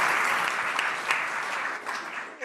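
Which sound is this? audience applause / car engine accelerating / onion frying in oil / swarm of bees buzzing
audience applause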